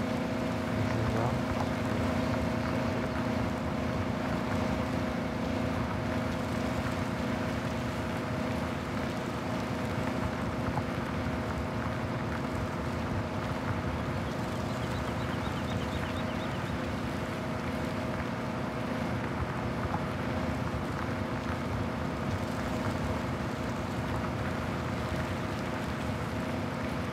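A tractor plowing a field in the Farming Simulator 17 video game, with a steady, droning engine hum that holds constant at moderate loudness for the whole stretch, no speech.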